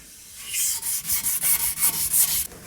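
A fine abrasive pad rubs back and forth across the cast table of a Startrite TA275 bandsaw, giving a close, rhythmic series of about nine scratchy strokes with short pauses between them.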